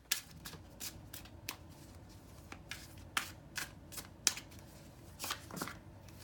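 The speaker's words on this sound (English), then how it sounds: "these cards want a little shuffled" Tarot cards being shuffled by hand in repeated quick riffles and slaps, close and crisp, with brief pauses between bursts and no talking.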